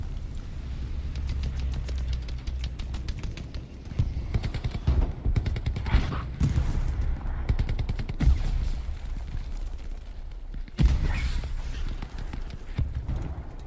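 Busy Hell Let Loose match from the 2021 fall seasonal tournament, WAR Allies against UFr Axis: rapid rifle and machine-gun fire crackling steadily up close, with heavier single shots popping out over a dense battlefield din.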